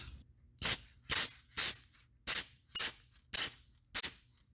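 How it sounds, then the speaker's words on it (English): Seven short hissing bursts of an aerosol can of silicone mold release spray, fired in a steady rhythm close by onto a fishing lure and mold box, each a sharp puff of sound with quiet between. "Now we can spray this silicone mold release spray"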